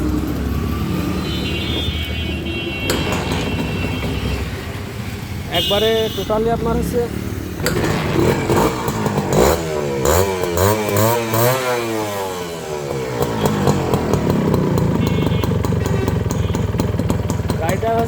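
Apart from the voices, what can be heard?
Honda CDI 100 motorcycle engine starting and running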